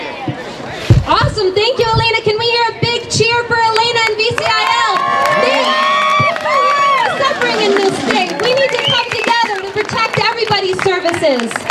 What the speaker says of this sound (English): Can we hear a big cheer for Elena and VCIL?